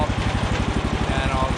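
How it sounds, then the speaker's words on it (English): A Woodland Mills sawmill's small engine idles close by in the winter cold, a fast, even chugging pulse repeating steadily throughout the brief moment. "the mill's warmed up"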